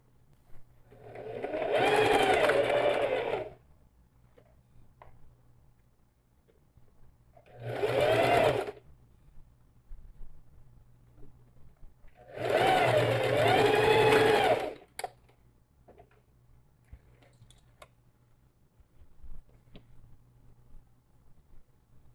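Sewing machine stitching fabric pieces, milk-carton panels of a zippered pouch, closed with a 1 cm seam margin: three close, steady whirring runs of a few seconds each, separated by quiet pauses with faint handling sounds.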